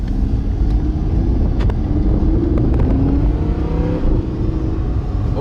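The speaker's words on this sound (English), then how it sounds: "Already a fantastic noise from those 10 cylinders." An Audi R8 V10 Plus sports car engine drones loudly and steadily with rising revs and exhaust rumble, continuous and close throughout.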